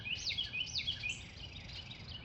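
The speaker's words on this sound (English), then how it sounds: "European starling." European starling gives a few faint, high whistled chirps and swooping calls over quiet outdoor background noise.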